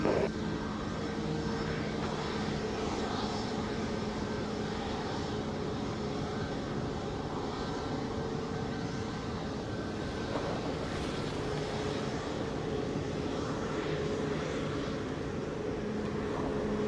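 Steady engine roar of aircraft at Montego Bay airport, Jamaica, a continuous broadband rumble with a faint tonal whine holding throughout, no voices.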